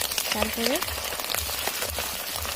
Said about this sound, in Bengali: অমলেট করছে তেলে মানে ভালো করে ইয়া করছে, অমলেট বানাইছে।